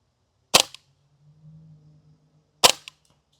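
Two sharp airsoft BB gun shots, about two seconds apart, fired close by with a low hum between them, while testing an Arken EP-8 LPVO scope.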